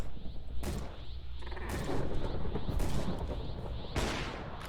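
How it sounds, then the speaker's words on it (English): Gunfire in Minecraft crackles as a dense run of rapid shots and bursts, loud and continuous through the whole stretch with a few sharper blasts. "So we got the gun going."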